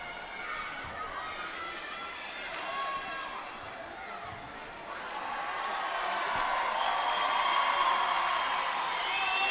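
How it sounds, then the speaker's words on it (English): A crowd at the 2018 Judo Grand Prix in Tunis cheers and applauds, a continuous roar that grows louder in the second half, heard under a commentator's talk. "Well, definitely the crowd is behind Khalifi."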